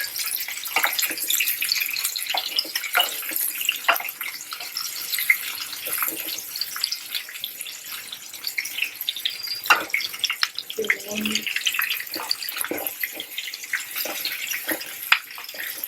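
Onions and capsicum frying in a pan, a bright continuous sizzle and crackle with scattered pops, fairly close, under a voice speaking at times.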